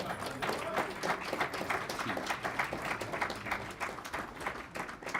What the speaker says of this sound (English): I know we're clapping